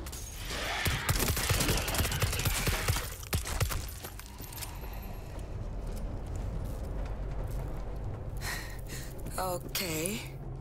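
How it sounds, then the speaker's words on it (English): A mortar and heavy gunfire in World War Z during a zombie wave, as loud rapid bursts of blasts and cracks for the first few seconds. A rumbling din follows, with sharp chirping tones near the end. "Mortar ready to fire!"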